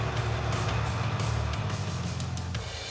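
A car engine holds high revs while the vehicle crawls along below 20 miles an hour, a loud continuous drone with a steady low rumble heard from inside the car, with no talk.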